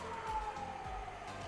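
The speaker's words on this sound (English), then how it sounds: "I'm sorry, some ambulance, right? It might be annoying." An ambulance siren passing outside: a faint wavering wail that carries steadily through a low, constant background rumble, with no voices.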